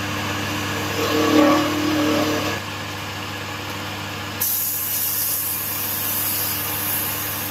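Decorative combs being cut into a wooden bagpipe part on a lathe, a steady machine hum with rasping cutting noise that rises early on, then shifts in tone partway through, with no talk.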